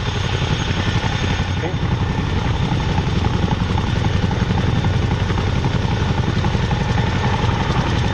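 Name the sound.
Wildcat HMA Mark II helicopter flying past at air show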